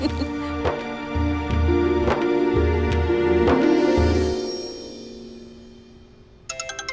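An electronic ringtone plays a repeating melodic pattern with rhythmic chimes, then fades out before a brief second burst near the end.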